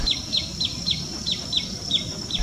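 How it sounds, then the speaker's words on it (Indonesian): A local bird, likely a common tailorbird, repeats a sharp, high call about every quarter second, eight or so notes in a steady rhythm close by with no talking. "burung jenenen pisang ini yang mungkin sering terlihat dan terdengar suaranya"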